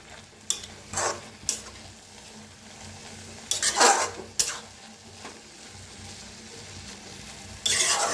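Fenugreek (methi) bhaji being stirred in a kadhai: a spoon scrapes and knocks against the pan in several short bursts over a soft, steady frying sizzle, no speech.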